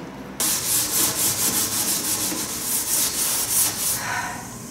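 A power sander grinds patchy paint off the floor of an aluminum Bayliner Bowrider 175 boat, starting abruptly into a loud, even rasping hiss with a faint rhythmic pulse, close by and without talk.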